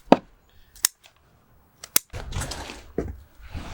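Young bonsai roots are cut off the root ball in a few sharp, close snips spaced apart, followed by rough rustling and scraping of roots and soil.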